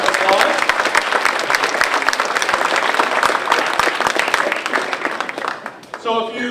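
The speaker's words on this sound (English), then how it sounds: "If we can give them a big round of applause" A banquet crowd gives a big round of applause for the volunteers and staff who served the meal, dense sustained clapping throughout that thins out near the end as a voice comes in.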